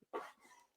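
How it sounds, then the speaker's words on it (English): A single dog barks once indoors, a short sharp yap with a quick trailing whine, fairly faint and heard on its own. "That's my dog, if anyone is wondering. He's being super loud right now."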